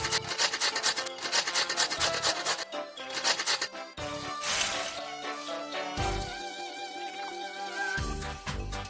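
A pizza ingredient is grated in the Masha and the Bear Pizza Maker video game, heard as repeated rasping scrapes in quick bursts with short pauses, followed by brighter cartoonish sound effects and music.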